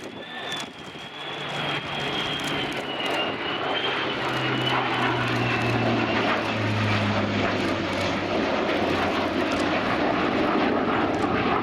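A Lockheed KC-130J turboprop tanker with refuelling hoses streamed flies past at an air display, its propeller engines droning steadily and fairly distant, with a sustained whine and a broad rushing roar that holds throughout.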